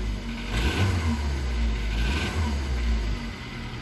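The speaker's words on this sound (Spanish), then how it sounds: "Lo importante aquí es que ya el carro ya arranca" A 2005 VW Polo engine running just after starting, a low, steady idle rumble with slight surges in level, heard close and alone.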